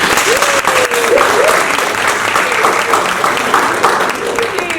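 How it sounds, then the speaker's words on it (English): An audience applauds steadily at a professor's event, a dense, sustained clapping with some crowd noise, while a voice speaks over the applause. "Give her a round of applause."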